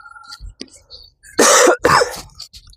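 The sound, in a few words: cough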